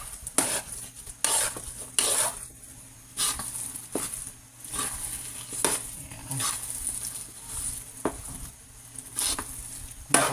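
Thick, sticky biko (sweet glutinous rice) mixture is stirred in a pan, giving repeated close scraping and squelching strokes at an uneven rhythm with a faint sizzle underneath and no talking.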